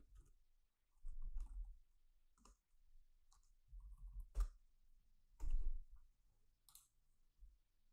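Mouse clicks on a website purchase button, a handful of faint, sharp clicks spaced irregularly over quiet background with soft low thumps between them.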